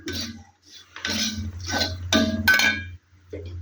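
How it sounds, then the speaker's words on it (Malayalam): Semolina roasts in oil in a pan with short bursts of metal spoon scraping and clinking against the pan, separated by brief pauses. "റവയും നമ്മളിട്ട എല്ലാ സാധനവും കൂടെ ചേർത്ത് ആ എണ്ണയ്ക്കകത്ത് നമ്മളൊന്ന് വര വറുത്തെടുക്കുകയാണ്"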